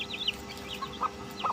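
Chickens clucking nearby in short, soft bursts, a few brief calls scattered over a low background hum.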